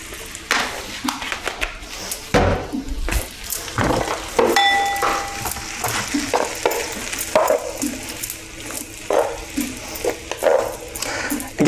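Peas and asparagus sizzling and being stirred in a frying pan, added to a vegan dish with courgettes and butter beans; a steady, close sizzle broken by scraping and clattering from the pan, with a brief ding.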